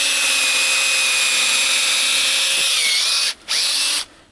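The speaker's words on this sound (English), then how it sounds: "So we're gonna take our drill here." A power drill with a 9/16 bit whines loudly and steadily drilling into frozen ground, its pitch dipping slightly near the end before a brief cutoff, then a short burst and stop.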